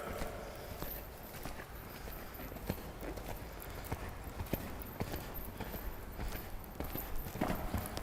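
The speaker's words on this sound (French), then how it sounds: "Galop naturel du cheval." A horse kept at its natural gallop in a riding lesson, hooves pounding in a continuous rhythmic clip-clop on a slope, near and steady, with no voices over it.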